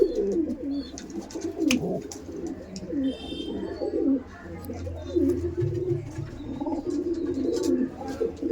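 Kaldom and Laldom pigeons in a roomy loft coo continuously in overlapping low, throaty calls close by, with occasional flutters and clicks and a few faint chirps mixed in.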